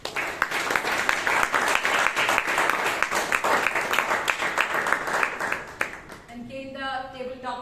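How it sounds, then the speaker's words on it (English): Toastmasters meeting audience breaks into sustained applause, a dense wash of many hands clapping steadily for about six seconds before fading out. "Let's give a big round of applause."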